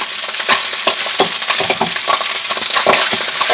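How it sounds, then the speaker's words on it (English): Shrimp fried rice sizzles loudly in a hot pan, a dense continuous frying crackle with pops and the scrape of stirring throughout, close and without talk. "The whole idea is to get that rice frying."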